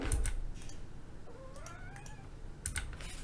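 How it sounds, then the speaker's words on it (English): A single drawn-out cat meow rises and falls in the middle, moderately close, with faint keyboard tapping around it. "A very naughty cat there."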